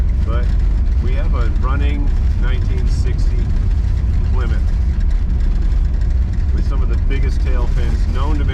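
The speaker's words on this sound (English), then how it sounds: "But we have a running 1960 Plymouth." A 1960 Plymouth Savoy with a Chrysler engine runs with a loud, steady low rumble throughout, while someone talks over it for much of the time.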